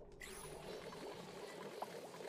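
Hot petroleum poured onto water in the colony-building game Oxygen Not Included gives a soft, steady liquid pouring and bubbling hiss, faint and continuous.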